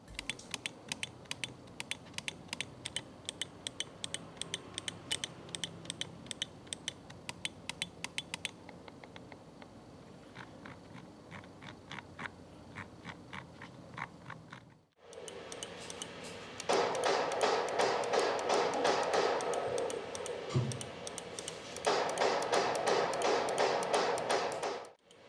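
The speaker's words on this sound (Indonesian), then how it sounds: "kita akan uji feedback, terutama untuk suara dari tombol-tombol pada mouse ini" Rapid crisp clicks from the buttons of a Logitech Pro X Superlight 2C mouse, tapped in quick bursts then sparser single clicks, close and dry, with a louder hissing background in the second half.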